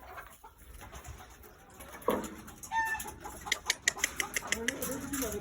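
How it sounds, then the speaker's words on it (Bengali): Chickens at a poultry farm cluck in short, irregular bursts that grow busier toward the end, with other birds and faint voices in the background. "কি সুন্দর সুন্দর মুরগি, এগুলো ডিমও তো পারে মনে হয়"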